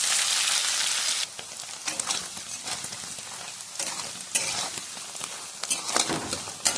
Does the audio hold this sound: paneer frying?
yes